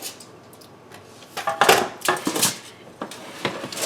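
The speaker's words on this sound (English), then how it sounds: "I'm going to remove my scale" A kitchen scale is lifted off the counter while making butter almond shortbread, giving a few short knocks and clatters of hard objects in close succession, with no talking.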